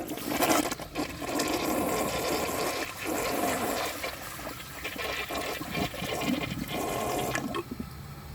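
An American Standard Cadet toilet from 2005 flushing with a washcloth and grocery bag in the bowl, a loud close rush of swirling water lasting the whole stretch and easing slightly at the end.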